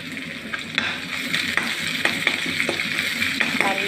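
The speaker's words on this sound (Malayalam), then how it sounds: "കൊച്ചുള്ളി ചേർത്ത് നല്ല രീതിയിൽ ഇളക്കി വേർപ്പിക്കാം" Shallots fry in hot oil with dried red chili, urad dal and curry leaves for a Kerala jackfruit thoran, giving a steady close sizzle broken by repeated sharp scrapes and taps of a stirring spoon.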